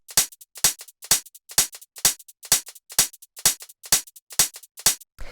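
Short, tight hi-hat hits for a deep minimal house track play alone in a steady, even pattern, about a dozen crisp bright ticks with silence between them.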